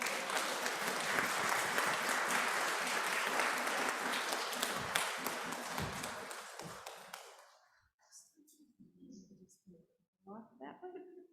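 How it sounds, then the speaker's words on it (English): Audience applause at a church dedication and thanksgiving service, a broad, dense wash of clapping that holds for about seven seconds, then fades out, leaving quiet room noise and a few soft voices. "Let's give them all a round of applause."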